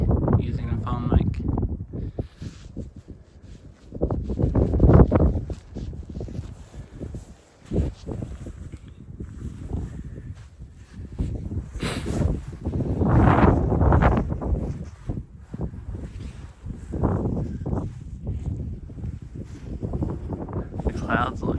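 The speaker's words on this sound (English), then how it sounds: "I hope the wind's not too loud." Heavy wind buffeting a close phone microphone on the Cherohala Skyway, rumbling and gusting in uneven surges that rise and fall for the whole stretch.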